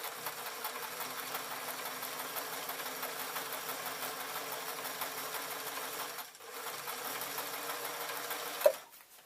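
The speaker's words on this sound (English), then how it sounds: "If I sew on zigzag," Sewing machine running a zigzag stitch on satin, a steady fast mechanical whir with a brief pause near the end, close and fairly quiet.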